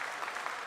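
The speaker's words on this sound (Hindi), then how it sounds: "आप तालियों के गड़गड़ाहट से सुन सकते हैं कि" Applause in the mission control room during the Chandrayaan-3 lunar landing, a brief burst of steady clapping heard fairly faint and distant.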